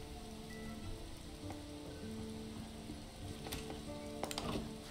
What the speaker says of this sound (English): Gotta like that rain.